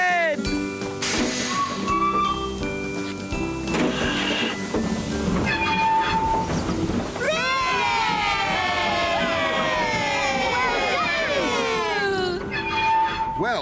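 Cartoon steam train chugging along a railway track, busy and continuous, mixed with music and cheerful voices talking throughout, with a rising whistle-like swoop in the middle.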